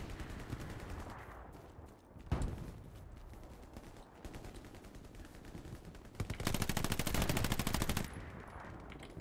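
Machine gun fire in the World War II shooter Hell Let Loose crackles in rapid bursts, with a sharp nearby shot and a louder sustained volley toward the end, echoing over a noisy battlefield.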